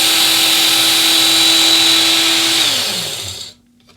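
WorkSharp powered knife sharpener grinding a hand-made knife blade, a loud close high whine held steadily before the motor winds down and stops.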